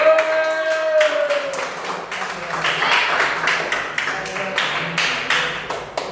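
A group in a teachers' training session claps hands with sharp, distinct slaps in a fairly quick, slightly uneven rhythm, close and loud, after a brief voice at the start.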